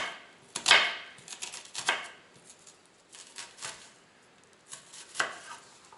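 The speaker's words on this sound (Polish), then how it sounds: "Najpierw tuż sobie kroimy nożem." A knife dices raw salmon for tartare on a cutting board with quiet, irregular chopping taps, a few sharper knocks among softer cuts, close up with no talking.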